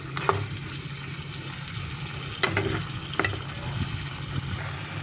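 Fried bitter gourd simmers close by in a spicy gravy in a pan. It makes a steady bubbling sizzle, broken by a few sharp knocks of a spoon against the pan. No one speaks.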